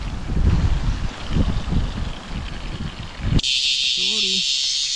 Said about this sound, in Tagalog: Kaso ang hangin dito sa spot natin, no?